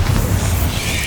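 A Bombarda explosion spell in Hogwarts Legacy gives a brief, heavy booming blast with a dense low rumble and a hissing, crackling tail across its short length, loud and close.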